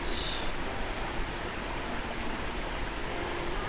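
A constant broadband rush of a waterfall at Glendalough, Wicklow, Ireland, roars steadily throughout, loud and close, with no voices.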